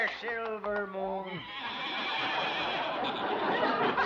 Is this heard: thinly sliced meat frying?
no